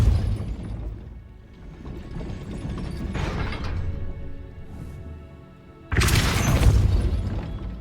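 A Depulso spell strikes a gate in the Hogwarts Legacy video game: a heavy boom, then a rumbling, grinding gate mechanism, and a second loud crashing burst near the end.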